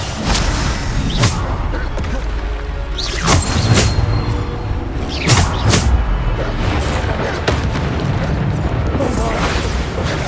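Bombarda spell blasts in Hogwarts Legacy go off several times in a row, each a loud booming burst with a rumbling tail over continuous game noise.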